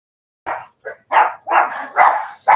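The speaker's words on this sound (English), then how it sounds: "Excuse my dogs barking." Dogs barking indoors in a quick series of about six sharp barks, close and loud, with brief gaps between them and no talking over them.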